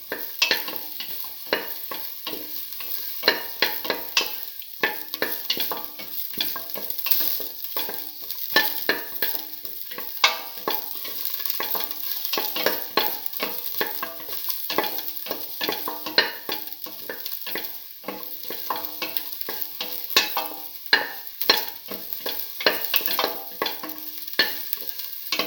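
Shallots frying in a pan for a red lentil and bottle gourd rice dish, a steady close sizzle broken by frequent scraping stir strokes throughout, with no talking.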